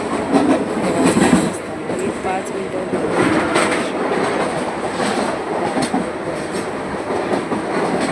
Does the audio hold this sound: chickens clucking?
no